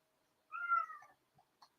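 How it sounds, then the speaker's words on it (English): Indoor house cats give one drawn-out, wavering meow, fairly close and clear, followed by a couple of brief faint chirps and soft noises in a quiet room. "My cats are crying up a storm"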